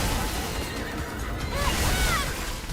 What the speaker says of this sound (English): Big Tentacle comes and shows up. And jiggles it around. And sounds like a fucking horse.